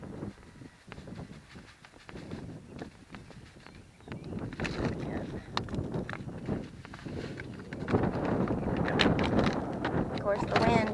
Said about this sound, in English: of course the wind is going to catch up now